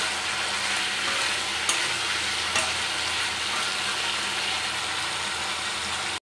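Aloo posto, potatoes with poppy seeds, sizzling in a pan with a steady frying hiss, a couple of faint scrapes of stirring, continuous and close with no voices.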